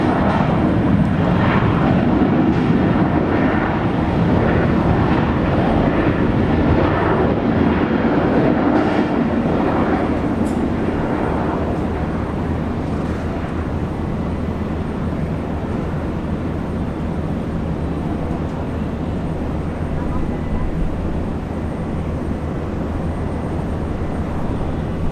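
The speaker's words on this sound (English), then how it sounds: "Rexy touching down. Flight 202 coming in from Melbourne." A Rex airliner on flight 202 from Melbourne touches down at Brisbane International Airport, its engines producing a loud, sustained broadband roar that stays heavy throughout and eases slightly toward the end, with no talking.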